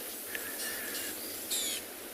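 Small birds call and scold from a distance while mobbing an owlet on an afternoon safari in South Africa; sharp, scattered chirps with a brief louder burst partway, over a steady hiss of outdoor ambience.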